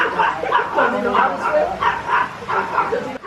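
A dog barks and yips at a drone near a pond, a series of close, excited barks with whimpering tones, while people talk over it.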